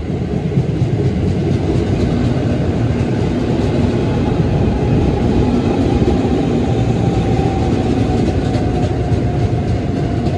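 KRL commuter train passing through a station, a loud continuous rail rumble with rhythmic clickety-clack of wheels and a faint high whine, going on throughout with no talking.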